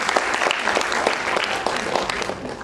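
An audience at an award function claps loudly and continuously, a dense, steady wash of applause with no break.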